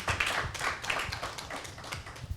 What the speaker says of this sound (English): Please, a round of applause for John.